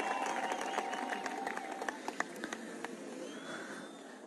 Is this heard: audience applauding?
yes